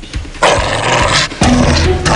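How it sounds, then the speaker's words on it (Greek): A dog in a tense police-drama scene growls and barks sharply at close range, with two loud bursts over a low rumbling growl. "Πες το σκύλο σου να σκάσει."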